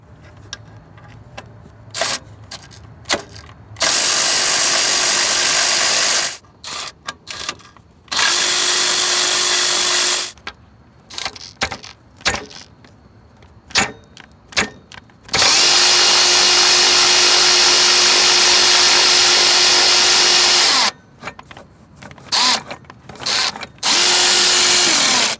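A power tool with a 10mm socket drives out the belt tensioner fasteners on a 2006 Ford E-350, giving loud, close, high-pitched whirring bursts of varying length separated by short pauses and clicks.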